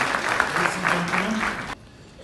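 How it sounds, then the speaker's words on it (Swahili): Audience applause at an investment forum hall, steady sustained clapping from a crowd that cuts off abruptly near the end, leaving quiet room tone. "Makofi tafadhali mengine kwa Mheshimiwa Spika."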